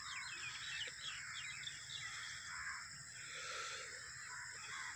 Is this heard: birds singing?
yes